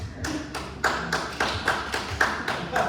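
A small group clapping in a taiji qigong class, about ten sharp, evenly spaced claps in a steady rhythm, close and fairly loud, with no talking.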